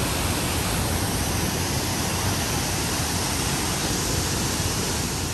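Choshi Otaki, the only mainstream waterfall on the Oirase Stream in Aomori, pours with a steady, dense roar of falling water and spray, loud and unbroken throughout with no voices.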